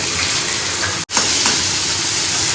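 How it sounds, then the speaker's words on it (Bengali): Bitter gourd slices fry in hot oil with a steady, dense sizzle that fills the space, close and loud, briefly cut off twice. "করলা ভাজাটা আগে ছেড়ে দিই"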